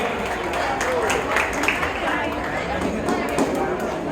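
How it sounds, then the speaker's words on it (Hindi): Applause at a school prize distribution, a dense crowd of hands clapping steadily throughout, mixed with murmured chatter and voices in a large room. "एक जोरदार तालियां"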